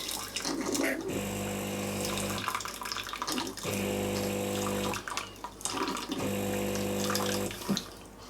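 Water gushes through a De'Longhi PrimaDonna Elite ECAM 656.85.MS coffee machine during a milk-system rinse, pulsing in three long bursts with a pump hum, separated by brief pauses and clicks.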